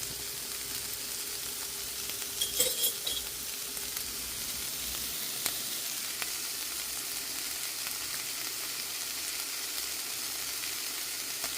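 Garlic sizzles in a frying pan with a steady, close hiss of frying, and a few faint clinks and stirring sounds rise above it early on.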